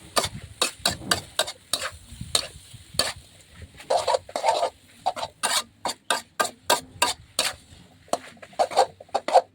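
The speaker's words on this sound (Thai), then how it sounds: "เราก็ผัดให้ทุกอย่างให้เครื่องปรุงทุกอย่างเข้ากันเลยค่ะ" Yellow egg noodles stir-fried with fish sauce and seasoning powder in a pan, heard as a rapid run of sharp spatula scrapes and clacks with a faint sizzle underneath, fairly close and steady, with no talking.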